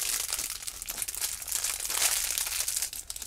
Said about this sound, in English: Apologize for the crinkly noises.